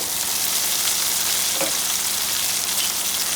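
Bitter gourd fries in a pan with turmeric and salt, giving a dense, continuous sizzle that stays loud and even throughout, with one brief clatter partway through.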